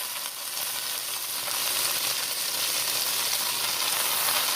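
Callaloo greens drop into a pot of frying garlic and onions, setting off a dense, steady sizzle that swells slightly and holds loud and close throughout, with no talking.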